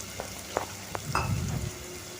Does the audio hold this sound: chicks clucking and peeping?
no